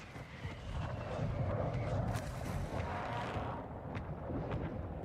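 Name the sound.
mortar strike explosions in video game Warzone 2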